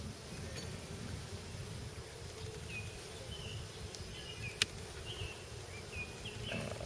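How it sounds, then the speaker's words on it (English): Honeybees drone steadily around an open hive during a beekeeping inspection as a brood box is added, a low continuous hum with occasional faint bird chirps and one sharp click. "Lots of bees on there."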